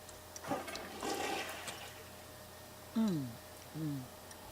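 A toilet flushes in The Sims 3 with a fairly faint rush of water over the first couple of seconds, followed by two short sliding tonal blips.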